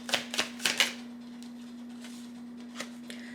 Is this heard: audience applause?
no